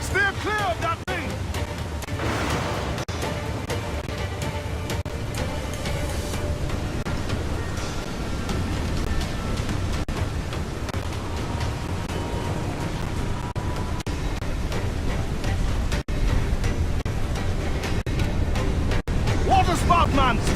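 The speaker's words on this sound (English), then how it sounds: "Water spout, man! Stay away!" Waterspout winds and crashing waves at sea in Assassin's Creed IV: Black Flag, a steady loud roar of wind and surf running throughout, with shouted voices over it.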